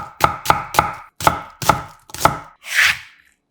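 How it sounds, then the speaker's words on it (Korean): Half an onion being cut into thick strips with a knife on a cutting board, six crisp, close chops in an uneven rhythm followed by a softer sliding scrape. "양파 반 개는 식감 있게 굵게 채 썰어주고"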